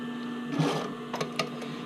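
A sewing machine stitching down elastic at the V of a sports bra waistband, a steady mechanical drone with a few quick louder bursts of stitching.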